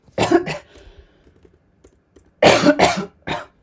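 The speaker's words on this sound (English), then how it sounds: "because of that I'm coughing a little bit" Two bursts of harsh coughing, close and loud, separated by a quiet pause with faint clicks.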